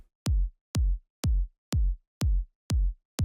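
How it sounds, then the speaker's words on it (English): A heavily parallel-compressed electronic kick drum in an EDM production repeats seven times at a steady pulse, each hit a loud, punchy thump with a sharp click and a sustained booming low body, heard alone. "really compressed version of the kick. It sounds like this."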